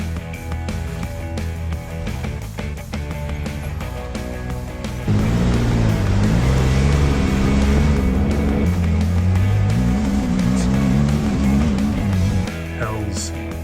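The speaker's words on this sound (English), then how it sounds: "Logan behind the wheel. Whipping it." A vehicle driven off-road on a rocky Utah trail, a close engine drone under steady rumble that swells louder midway with revving, wavering pitch, then eases back near the end.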